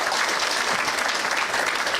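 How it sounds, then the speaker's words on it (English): An audience at a formal Kenyan government gathering breaks into dense, continuous applause, many hands clapping at once at steady loudness for the whole brief moment, with no voices standing out. "Let's give them a round of applause."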